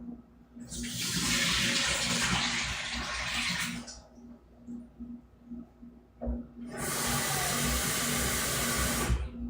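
Water runs loudly and steadily for a few seconds as fluid is dumped, then stops. After a short pause with small clatters, a second strong gush follows as a basin is rinsed, heard close with a faint hum underneath.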